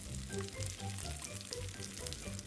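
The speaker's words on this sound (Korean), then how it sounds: "팬에 기름을 둘러주세요. 불세기는 중불 이제 라이스 페이퍼 재료를 넣고 맛있게 맛있게 익혀주시면 됩니다." Rice paper wrapped around Spam and rice fries in oil over medium heat in a pan, giving a soft, continuous crackling sizzle with small pops and no voices.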